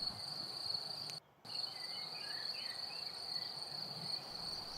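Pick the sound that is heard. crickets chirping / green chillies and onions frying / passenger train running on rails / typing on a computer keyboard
crickets chirping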